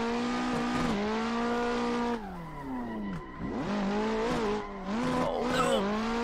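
Race car drifting in the Assetto Corsa driving game, played on a Logitech G920 wheel, with engine revs rising and dropping sharply as the clutch is kicked, tires squealing between, loud and continuous throughout.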